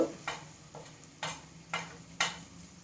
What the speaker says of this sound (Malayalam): പിന്നെ ഗരം മസാലയുടെ പൊടി ഇളക്കി കൊടുക്കട്ടെ